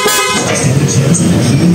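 A loud aftermarket horn on a Honda ADV160 scooter blares in a sustained harsh tone for about a third of a second, then cuts off, leaving engine rumble and faint noise.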